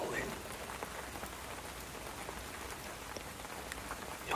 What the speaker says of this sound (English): The rain's still falling.